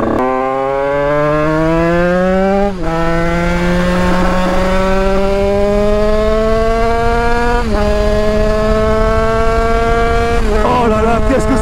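A 100cc 2Fast two-stroke motorcycle with 35 hp revs hard and loud through successive gears, its pitch climbing steadily before dropping at each of three shifts, with a buzzy, continuous whine close up and no talk.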